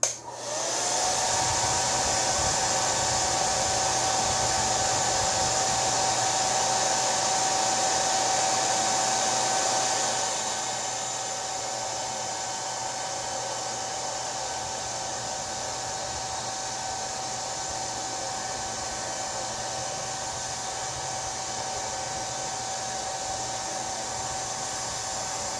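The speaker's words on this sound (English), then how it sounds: "turn the hairdryer on and heat up the side that's going to stick to your skin" A hair dryer blows steadily for about 25 seconds, heating the skin side of an ostomy wafer; a close, continuous whir that drops slightly in level midway, with no talking.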